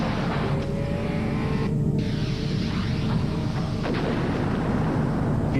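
Loud, roaring stock car engine, the Miller Genuine Draft Rusty Wallace car, surging and droning past in a continuous rumble with shifting pitch, broadcast-style race audio with no talking.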